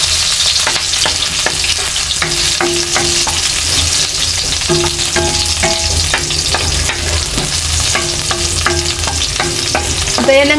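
Onions sautéing in hot cooking oil for a Filipino ampalaya dish, a steady close sizzle and crackle running throughout, with occasional stirring clinks of a utensil against the pan.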